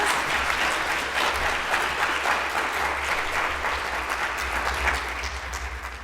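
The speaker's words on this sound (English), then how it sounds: "Can you just give them a round of applause?" Audience applause at a higher education summit fills the room as a loud, dense, sustained round of clapping that fades slightly near the end.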